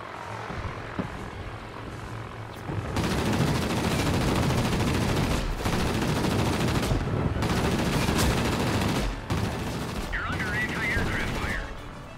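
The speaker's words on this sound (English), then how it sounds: "Now I can finally get some shots in." Aircraft machine guns firing in a World of Warplanes dogfight flown in a Breda Ba.27 Metallico, loud continuous bursts of gunfire over a propeller engine drone, with brief pauses between long strings of shots.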